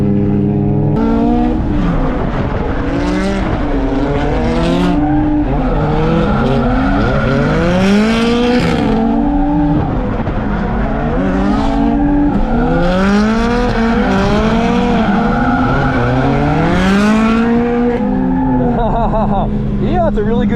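Cars lapping the Ebisu Nishi circuit rev hard with rising and falling engine pitch, tires squealing and skidding through corners, loud and close for the full twenty seconds.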